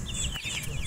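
Chickens cluck and chirp over each other in a busy coop, a close, continuous chorus of hen sounds, in a small mixed backyard coop that also holds turkeys and ducks.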